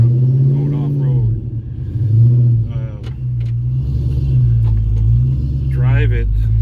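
A Ford Foxbody Mustang on Nitto NT05R tires rolls along with a loud, deep engine rumble that rises and falls in pitch through the run, while a person talks over it.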